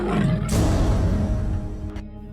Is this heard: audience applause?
no